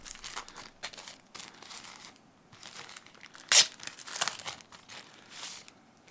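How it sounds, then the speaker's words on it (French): Packaging of a K&F Concept variable neutral density filter is unwrapped in a quiet room, giving scattered soft crinkles and one sharp, loud crackling burst of plastic or paper midway, with no talking. "On va maintenant déballer l'autre filtre."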